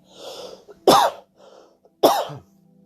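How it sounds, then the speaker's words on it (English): Two sharp, close coughs about a second apart, with quiet breathy sounds before and between them. "Excuse me, I just had to cough."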